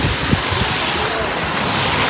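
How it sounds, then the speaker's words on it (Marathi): Rain falls outdoors in dense fog in open countryside, making a steady broadband hiss with gusty wind buffeting and faint low thumps. "पाऊस चालू आहे."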